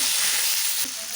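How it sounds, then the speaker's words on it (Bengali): Tomato dropped into hot oil while cooking aloo dum, giving a loud, steady hiss and sizzle close by with a slight stir partway through and no talk. "তারপরে এই টমাটোটা দিয়ে দেবো।"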